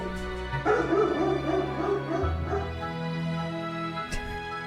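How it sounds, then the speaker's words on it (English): A dog barks and yips a few times indoors, short sharp bursts over a steady background hum. "And Goose was barking."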